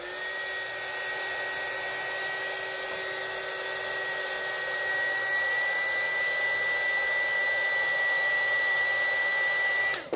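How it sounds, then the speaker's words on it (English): A steady, continuous blowing whir of a heat gun drying alcohol ink on paper runs throughout, loud and close, with a constant high whine and no talking. "if you dry the white, the snow cap with your dryer a little bit, with your heat gun"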